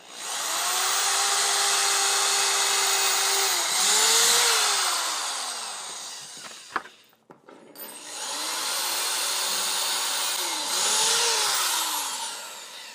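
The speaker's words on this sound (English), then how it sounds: "So I'll just drill a couple of pilot holes." A power drill drilling pilot holes for a rolling workbench whirs loudly in two long sustained bursts, pitch dipping briefly as it bites in, separated by a short pause with a click.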